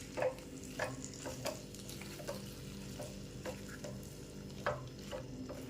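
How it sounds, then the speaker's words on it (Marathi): Mixed vegetables sautéing in spicy masala for veg kolhapuri, with periodic sharp scrapes and clacks of a spatula over a soft steady sizzle, close and fairly quiet. "दोन मिनटं हे चांगला परतून घ्यायचं आहे आपल्याला जेणेकरून आपला मसाला आहे तो भाज्यांना चांगला कोट होईल"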